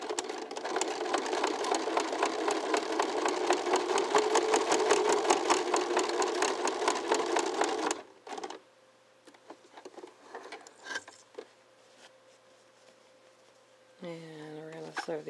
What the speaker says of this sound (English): we're now going to sew on that red line right there across it